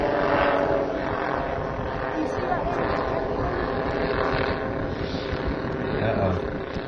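Model B-29 bomber airplane flying at an air show, a loud continuous propeller-engine drone with slight swells, with people talking over it.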